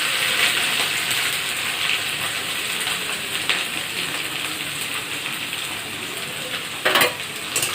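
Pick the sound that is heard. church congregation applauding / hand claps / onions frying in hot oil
onions frying in hot oil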